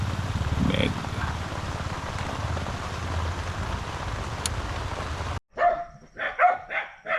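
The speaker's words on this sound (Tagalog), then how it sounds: "Ginising ako ng mga tahol ng mga aso." Dogs bark outside a camper van at night in light rain, first a faint distant bark over steady rain patter, then after a cut a run of several louder, closer barks.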